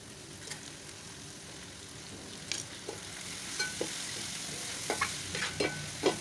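Chopped tomato sizzles as it is added to onions sautéing in a pan. A soft, continuous frying hiss runs throughout, with scattered light clicks and taps of stirring growing more frequent toward the end.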